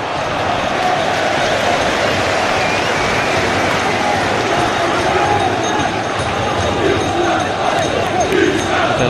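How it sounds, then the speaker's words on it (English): Vocal, passionate football crowd at a Manchester United versus Portsmouth match, a dense continuous roar of chanting and shouting that stays loud and steady throughout with no clear lull. "And they really are a vocal, passionate crowd here"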